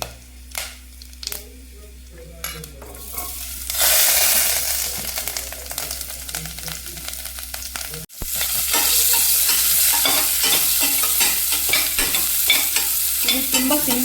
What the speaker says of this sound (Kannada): ಜೀರಿಗೆ, ಪೆಪ್ಪರ್ ಪುಡಿ, ಸ್ಟಾರು, ಲವಂಗ ಇಷ್ಟು ಹಾಕ್ಕೊಂಡು ಕ್ಯಾರೆಟ್ ಹಾಕ್ಕೊಳ್ತೀನಿ